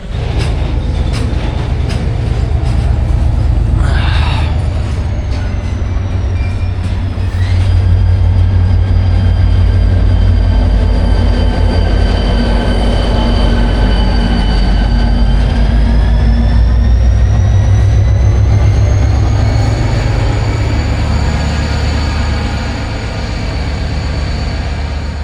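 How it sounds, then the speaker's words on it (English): A container train sets off on rail: a loud continuous rumble of wagons starting to roll, with a long steady wheel squeal gliding in pitch across the whole stretch and occasional clanks, no talk. "this container train is kind of coming to life."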